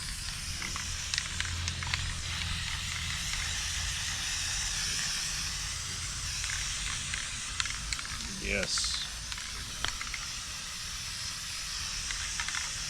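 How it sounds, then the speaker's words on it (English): Black spray paint hissing from a can onto a giant DIY spider Halloween decoration outdoors, repeated bursts of spraying with short pauses between them, while people talk intermittently. "We don't care if the spray paint gets in our grass."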